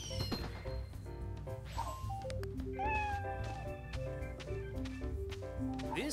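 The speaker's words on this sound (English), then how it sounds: "Jeez, my poor cat." Cartoonish cat meow from the cat token in the Monopoly Plus video game, heard over steady upbeat game music with a few short sound-effect hits.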